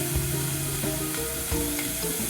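Sliced ginger strips drop into hot oil for tempering, loud continuous close sizzling and frying with a few stirring scrapes, no voices.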